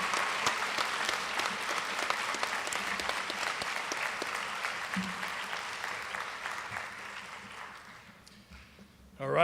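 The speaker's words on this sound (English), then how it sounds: "give them a round of applause, please" Sustained applause from a banquet audience at a high school athletic awards night, steady dense clapping that continues for several seconds before thinning and fading out near the end.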